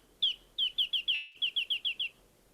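A female wrentit from California gives a rapid series of about ten sharp, high pip notes, a clear close call with a brief pause midway and no talking.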